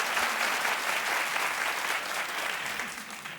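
Talk-show studio audience applauding in agreement, a continuous wash of many hands clapping that holds steady and then eases slightly toward the end.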